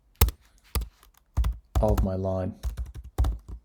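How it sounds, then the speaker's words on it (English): Rapid keystrokes clatter on a computer keyboard in uneven bursts, close and fairly loud, with a brief stretch of speech breaking in partway through. "typing's terrible"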